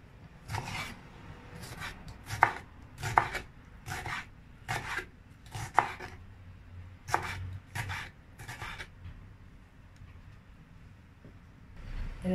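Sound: dicing a tomato into cubes with a knife

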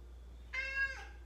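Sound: cat meowing

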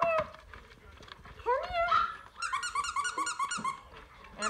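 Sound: mini goldendoodle puppies whimpering

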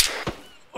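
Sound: gunfire in Arma 3 video game

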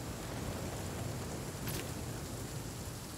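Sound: rain falling in video game The Flame in the Flood

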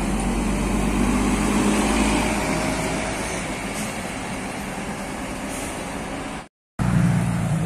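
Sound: Harapan Putra Jaya tour bus passing by

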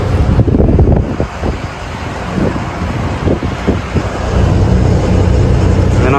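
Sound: cool wind blowing while riding a vehicle

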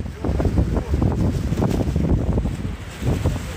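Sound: wind on the island coast

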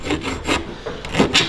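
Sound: filing rough edges of a cut hole

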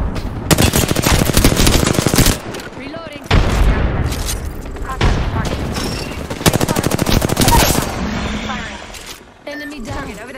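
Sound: gunfire in the video game Apex Legends

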